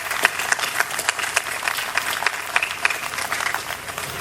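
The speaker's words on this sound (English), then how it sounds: "please, let's give them a round of applause for the sacrifices that they've made for our nation" A crowd at a Fort Rucker Freedom Fest event applauds the families of fallen soldiers, a rhythmic outdoor clapping with distinct individual claps popping out of the steady wash.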